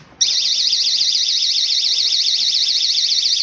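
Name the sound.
GE personal security window and door alarm sounding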